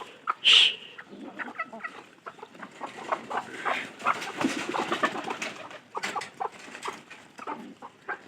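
Chickens cluck and a rooster calls close by in a backyard coop shared with pigeons, with a sharp crow-like burst near the start followed by a steady stream of clucks and soft bird chatter.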